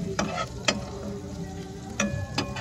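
Garlic and onion frying in a pan while being stirred, a steady low sizzle broken by several sharp clinks and scrapes of the spatula against the pan.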